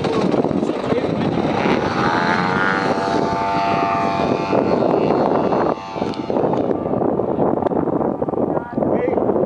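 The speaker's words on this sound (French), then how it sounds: "Décollage." Light aircraft engine droning steadily as it takes off from an airfield, loud and continuous throughout with a brief dip near the end, while people talk over it.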